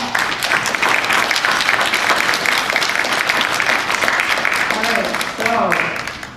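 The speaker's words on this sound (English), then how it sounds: "how about we give a round of applause to Roberta" Sustained audience applause for Roberta Steinbacher at an honoring event fills the room, steady dense clapping with some crowd voices mixed in toward the end.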